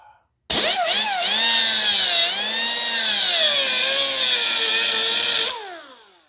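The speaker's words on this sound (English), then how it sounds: "today we'll use a cutoff wheel." Cutoff wheel grinding through a crack on a 331 Hemi iron engine block, a loud high-pitched abrasive whine that starts abruptly, wavers in pitch as the wheel loads and frees, then spins down after about five seconds.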